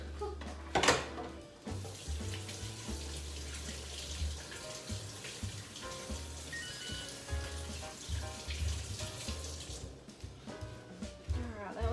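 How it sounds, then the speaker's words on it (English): Hands washed under a running kitchen tap, a faint steady stream of water with splashing and rubbing, low in level. "let me wash my hands real fast"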